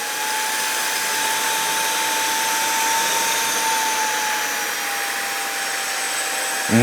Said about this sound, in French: Et on va lancer l'aspiration.